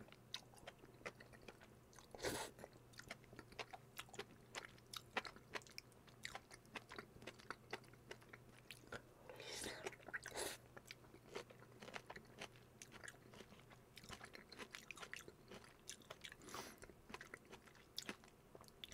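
Someone eats home-made Korean rose soft tofu with cheese pizza close up, with soft repeated chewing and a few sharper crunchy bites against a quiet background.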